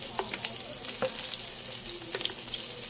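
Shrimp frying in a pan, with a steady crackling sizzle and scattered sharp pops from the hot oil, plus a few light clicks as the pieces are stirred, heard up close with no talking.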